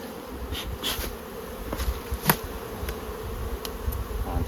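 Honey bees swarm around opened hives in Crossmaglen, giving a close, constant buzzing drone with individual bees flying past and no talking.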